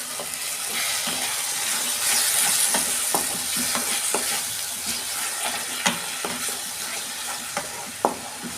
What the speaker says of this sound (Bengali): কাশ্মীরি লঙ্কা গুঁড়ো দিচ্ছি। অল্প জল দিচ্ছি।